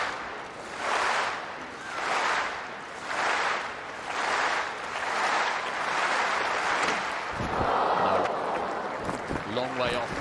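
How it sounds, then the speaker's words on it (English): A stadium crowd at a Commonwealth Games women's 100m heat roars in repeated rhythmic swells, a broad distant wash of cheering and clapping under a commentator's voice. "Listen to the reaction from the crowd."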